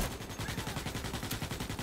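Rapid automatic gunfire in the sci-fi shooter game Starship Troopers: Extermination, a fast steady string of sharp shots at even rhythm, fairly close and continuous throughout without talk.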